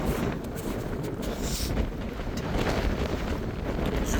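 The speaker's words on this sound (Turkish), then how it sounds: "Rüzgar." Steady wind buffets the microphone with a continuous low rumble and roar outdoors at the Ani ruins near Kars, Turkey, loud and unbroken from start to finish.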